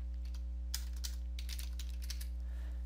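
Light, uneven keystrokes on a computer keyboard, a short run of soft clicks at moderate distance over a steady low electrical hum, with no voices.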